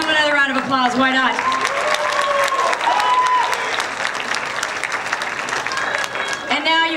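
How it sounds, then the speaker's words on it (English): Audience applause with cheers for a high school symphonic band at a spring concert, a dense crowd clapping throughout while a voice speaks over the start and whoops rise above it. "give them another round of applause"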